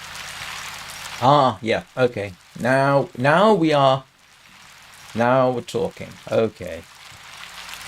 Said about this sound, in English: It sounds like hail.